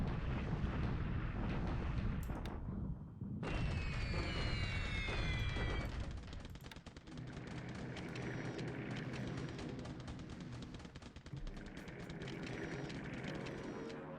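Aerial bombs exploding in the War in the Pacific strategy game during a high-altitude Japanese bombing raid over China, a loud sustained rumbling roar with crackling bursts, continuing without pause.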